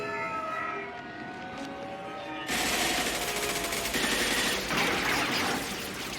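Mass Effect 2 firefight: after a few seconds of tonal hum, sustained automatic gunfire bursts in and continues loud and rapid to the end.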